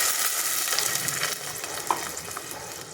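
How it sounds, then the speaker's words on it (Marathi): Raw Totapuri mango pieces sauté in a hot pan, a steady bright sizzle with soft scraping as they are turned, continuous and close with no voices. "तोरां मातशीं अशीं परतोवन घेता"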